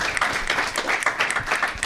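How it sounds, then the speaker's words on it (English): Audience applause at a live hip-hop radio Q&A, a burst of steady scattered clapping from a small crowd, moderately loud and fairly close. "Mark, definitely clap for that."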